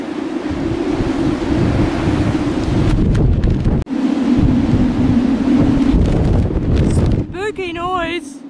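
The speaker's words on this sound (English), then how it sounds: "Loud noise that antenna makes." Antenna moaning in strong wind on an exposed ridge, a loud sustained eerie drone over rushing wind noise, briefly interrupted once, with a pitched wavering wail rising at the end.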